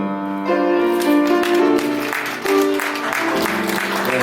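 Wedding guests clap warmly as the mothers of both families walk in, a steady wash of applause with music playing beneath it throughout.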